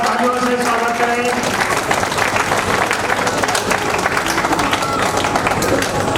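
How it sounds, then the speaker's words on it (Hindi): Loud, sustained audience applause at an Independence Day ceremony at a school for the blind, with dense clapping and crowd murmur running throughout, following a warm-welcome call to an honoured guest. "जोरदार तालियों से स्वागत करें।"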